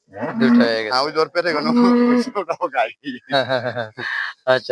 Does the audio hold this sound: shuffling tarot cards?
no